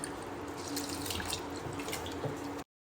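Tap water runs steadily into a kitchen vessel as rice is washed, a close, continuous splashing and trickling with small drips, ending abruptly in silence.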